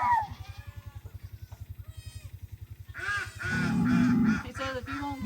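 Farm goats, some in heat, bleat loudly and repeatedly nearby, wavering nasal cries overlapping one another over a rapid steady mechanical pulsing in the background.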